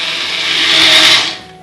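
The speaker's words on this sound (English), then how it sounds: "So here we go, back onto the blender, probably for about another 20 seconds or so." A countertop blender whirs steadily as it purees butternut squash, a loud continuous motor drone that swells briefly before easing off near the end, with no voices.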